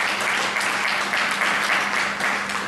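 Brief burst of audience applause at a government public-private partnership event, dense and fairly loud, with a faint steady hum beneath the clapping.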